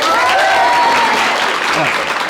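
A college audience claps, a loud, dense burst of applause that lasts the whole moment, with excited voices and whoops mixed in.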